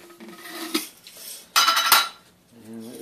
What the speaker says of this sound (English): Lid open.